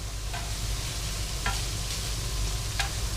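Carrot and celery being stir-fried in a pan, with a steady close sizzle under a low hum and a few light scraping stirs spaced across the moment.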